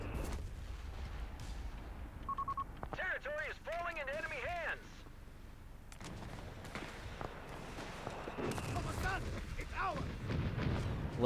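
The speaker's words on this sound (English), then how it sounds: "they're barraging the Allied mortars out the back" Mortar barrage and artillery fire in the video game Company of Heroes 3 during a 4v4 match, with repeated booms and gunfire rumbling under game effects and a commentator talking over it.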